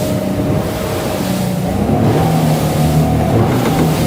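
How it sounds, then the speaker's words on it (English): Aquaspirit 700 day boat running at around 27 knots at sea, its engine a loud steady drone mixed with rushing water and wind buffeting the microphone, with no talking. "Now we've pushed on again a little way through the rev range to around about 27"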